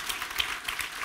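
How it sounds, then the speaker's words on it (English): A conference audience at a GLOBSEC Forum panel on the Havel Stage claps steadily, a faint, even patter of many hands with no voices over it. "Please give them a round of applause."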